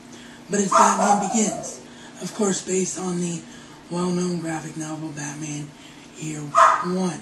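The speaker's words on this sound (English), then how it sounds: "sorry for the dogs in the background." Dogs barking and whimpering in a home, sporadic yips and whines heard behind someone talking continuously in the foreground.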